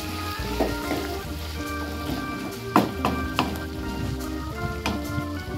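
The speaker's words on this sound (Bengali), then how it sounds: "দিয়ে আবার আমরা এটিকে ভালো করে কষিয়ে নেব" Masala chicken sautéed in a pan makes a continuous sizzle, with several sharp scraping stirs of a spatula against the pan standing out in the middle.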